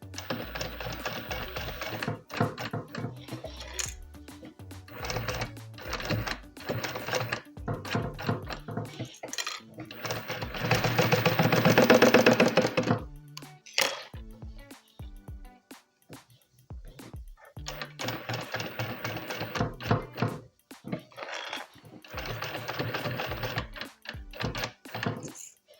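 A sewing machine stitches a synthetic leather bucket bag in close, rapid bursts separated by pauses, with one longer continuous run in the middle and a voice talking between the stitching.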